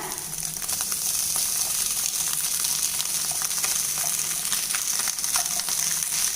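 Egg and rice frying in a pan give a steady, close sizzle and crackle that hisses on without pause and with no talking.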